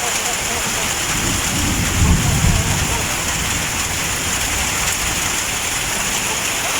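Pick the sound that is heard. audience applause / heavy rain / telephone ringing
heavy rain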